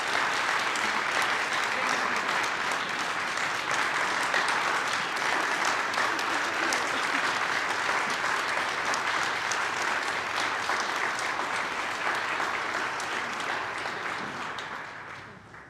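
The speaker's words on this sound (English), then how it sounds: "Another round of applause to Josie Hoffman, Tara Halverson, Lisa Pack." Sustained audience applause at an MLK Day human rights celebration, a steady dense wash of clapping from a large crowd that holds evenly and tapers off at the very end.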